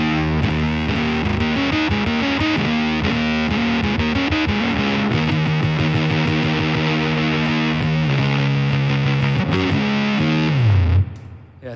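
An electric guitar runs through a thick fuzz effect, churning out a loud, saturated heavy riff for about eleven seconds before cutting off with a falling note at the end.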